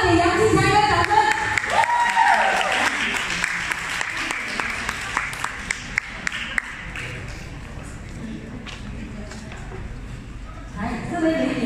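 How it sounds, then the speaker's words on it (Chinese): Audience applause at a dinner event, a sustained wash of clapping from a crowd that fades gradually and carries on under a host speaking over a microphone. "来，我们给杨静霞一个掌声。"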